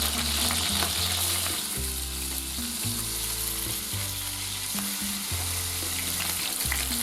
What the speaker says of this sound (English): we're going to fry this all in duck fat